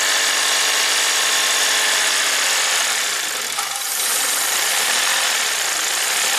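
A 2015 Lexus IS250 V6 idles high at around 2,100 RPM with no codes set, a steady loud mechanical whir and hum that dips briefly midway before settling back to an even drone.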